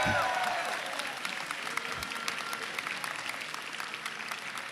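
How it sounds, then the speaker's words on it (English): A crowd at a 3v3 grand finals event in San Diego applauds steadily, a dense wash of clapping that holds at an even level throughout. "please let me give him a big round of applause for all his work."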